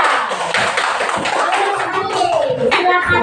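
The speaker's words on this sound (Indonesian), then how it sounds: "tepuk tangan untuk kelompok tiga" Children in a classroom clap for group three, a busy run of hand claps and taps filling the room alongside a child's speech and chatter.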